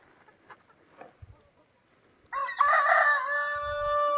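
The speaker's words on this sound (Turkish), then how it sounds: "Her yer tavuk dolu." Free-ranging chickens and a rooster in an overgrown forest with thick nettles near a coop; quiet rustling and faint clucks give way to a loud, close rooster crow sustained for nearly two seconds at the end.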